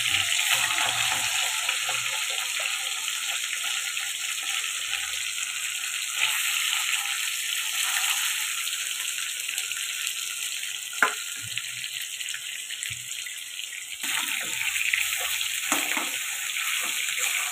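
Koi fish fry in oil in a hot pan with a continuous hissing sizzle, loud and near throughout, punctuated by occasional clinks and shifts.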